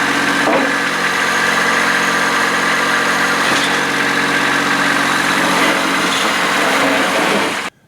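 A Kubota 2601B tractor with a floating bucket moves ahead slowly on cement, its diesel engine running at a steady, loud near idle with a constant droning hum that cuts off abruptly at the end.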